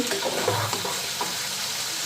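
Mukha fish fries lightly in a pan, a dense continuous sizzle close to the microphone with a few soft stirring knocks early on.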